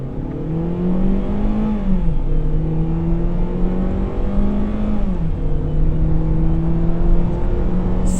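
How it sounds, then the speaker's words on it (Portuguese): Engine of a Citroën C4 Cactus 1.6 automatic pulls hard from a standstill, loud and steady from inside the car, its pitch climbing then dropping at each gear change through several shifts. "Vou parar o carro e vou arrancá-lo"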